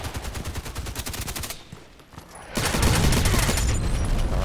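Rapid bursts of suppressed weapon fire in the Contract Wars shooter game, a quick rhythmic volley that cuts out briefly before a louder, denser stretch of gunfire resumes.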